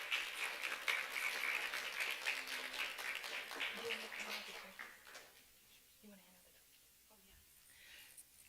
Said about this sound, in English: So big round of applause for all of your proctors too.